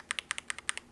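An unlubed AKKO Radiant Red mechanical keyboard switch typed close up, about eight crisp, evenly spaced clacks in under a second, each with a short bright click, alone in a quiet room.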